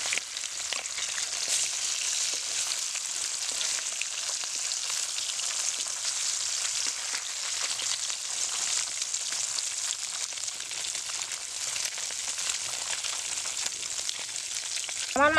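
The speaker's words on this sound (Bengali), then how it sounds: "মাছগুলো একটু হালকা ভেজে নিতে হবে" Amudi fish frying in oil makes a continuous, even sizzle with fine crackling throughout, close and moderately loud with no talking.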